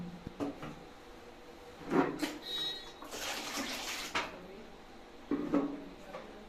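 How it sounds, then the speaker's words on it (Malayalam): Water is poured into a container of diluted cow dung, with sloshing splashes and a short gushing stream in the middle, plus a few knocks of the vessel, all fairly close and moderately quiet. "ഇനി ഈ ചാണകം നമ്മൾ കുറച്ചുകൂടി വെള്ളം ഇതിൽ കൂട്ടണം"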